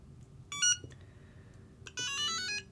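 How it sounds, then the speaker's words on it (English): Two short electronic beep sequences from a Flysky Paladin18 radio transmitter running EdgeTX, the second longer, sounding clearly over faint background noise with no talking. "you'll get another beep"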